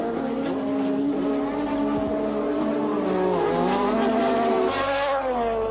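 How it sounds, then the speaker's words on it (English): Formula 1 race cars at the 1986 Brazilian Grand Prix, a continuous high-pitched engine scream with rising and falling pitch as the cars race past, heard from a distance. "Prost went past Alboretto's Ferrari into 3rd place"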